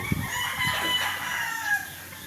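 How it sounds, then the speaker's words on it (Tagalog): Fighting roosters crow and cluck at a rural yard, several overlapping calls at moderate distance, fairly faint against a low background. "Mga manok na yan."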